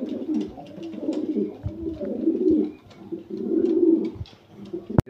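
A female pigeon coos in long rolling low phrases, close and fairly loud, repeating several times with brief pauses and a sharp knock at the end.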